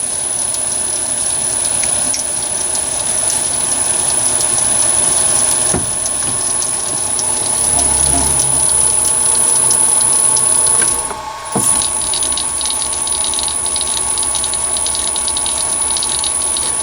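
A Chinese mini lathe with a VFD and three-phase motor runs at about 180 rpm, a constant mechanical whir and ticking rattle, a high whine above it, briefly dipping near the end.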